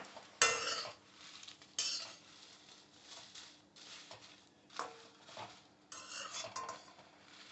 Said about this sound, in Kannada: 1 ಸ್ಪೂನ್ ಎಣ್ಣೆ ಹಾಕ್ಬಿಟ್ಟು ನಾನು ಫ್ರೈ ಮಾಡ್ತೀನಿ